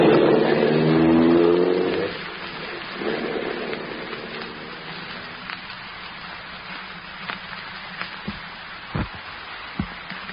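In a radio drama, a black sedan's engine starts and revs upward for about two seconds, then recedes, leaving quiet scattered ticks and taps in the night.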